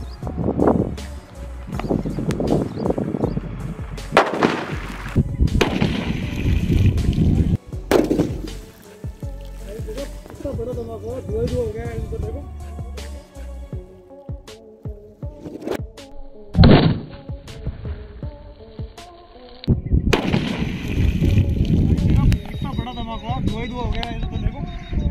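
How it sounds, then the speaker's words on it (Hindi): Sodium metal thrown into pond water reacts with sharp bursts and thudding pops, with loud splashes and hissing at close range, scattered among stretches of people talking outdoors. "अपने तालाब के अंदर सोडियम मेटल फेंका और जैसे वो पानी के अंदर गया उसने रिएक्शन स्टार्ट करी और काफ़ी बड़ा धमाका हुआ"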